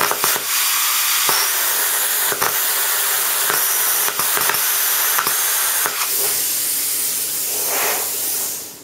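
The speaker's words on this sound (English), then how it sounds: "grab the plasma cutter and knock a hole in here just so the bolt goes through quite easily" Plasma cutter hissing steadily as it burns a hole through square steel tubing for a bolt, a loud continuous rushing spray broken by sharp crackling pops, ending as the cut finishes.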